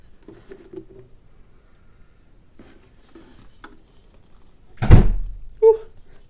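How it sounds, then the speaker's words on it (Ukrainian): After quiet, muffled talk, a door blown by a draught bangs shut with a loud, heavy thud, followed by a second, softer knock moments later. "Двері бахкають."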